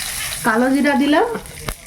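Nigella seeds are dropped into hot oil and give a brief hissing sizzle, with a short tonal, voice-like sound over it in the middle and a sharp tap near the end.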